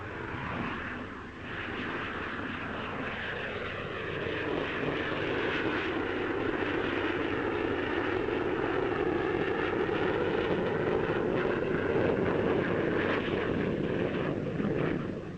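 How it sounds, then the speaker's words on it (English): A Gloster Javelin two-seater radar-carrying jet fighter flying at the 1953 Farnborough airshow gives a steady, loud jet roar that holds for about fifteen seconds with no talk over it. "Among the fighters on show is the two-seater radar-carrying Gloucester Javelin."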